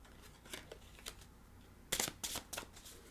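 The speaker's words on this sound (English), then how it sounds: "I'm just shuffling like this." Tarot cards being shuffled by hand in short soft riffling bursts, a few quiet flicks followed by several crisper, closer shuffles.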